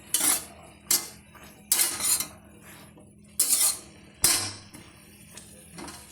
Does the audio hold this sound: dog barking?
no